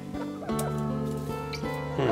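Green-legged hens cluck steadily in a coop in the morning, a close, continuous run of throaty, pitched calls with a few short breaks and no speech.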